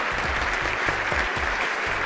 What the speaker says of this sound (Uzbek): qarsaklaringiz.